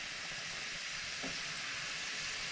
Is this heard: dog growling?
no